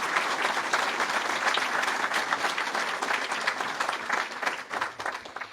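An audience at a book launch and talk on the history of El Tabo applauds steadily; dense, loud clapping from many hands carries on for several seconds, fading slightly toward the end.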